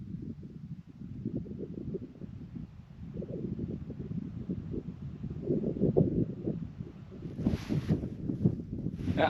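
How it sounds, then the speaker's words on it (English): Wind blowing across a winter moorland hilltop at Riggs Moor, a steady low rumble with gusts that rise toward the end, heard alone with no talking. "I could sit here for ages, just listening to the grouse, the wind."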